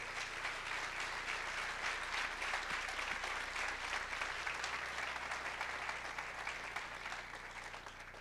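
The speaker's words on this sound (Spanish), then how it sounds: "Dale fuerte el aplauso al Señor." Sustained applause from a church congregation during a Spanish-language sermon, a dense, steady wash of many hands clapping at even loudness throughout.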